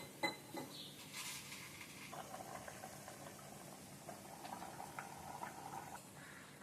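Tomato water chutney bubbles under a lid in a covered pot, a soft simmering hiss dotted with faint clinks and light rattles of the lid and pan, quiet and close.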